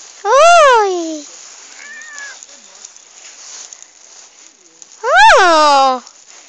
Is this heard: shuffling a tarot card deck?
no